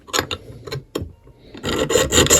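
An old hand file rasps across the steel hammer of a Remington New Model Army revolver in close, loud strokes, a few short scrapes followed by a longer run of steady back-and-forth filing.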